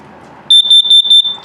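A propane gas detector alarm running its self-test inside a 2017 Dutchmen Denali 287RE travel trailer: a close, shrill electronic tone that sounds in about five loud pulsing beeps over roughly a second, with no voices.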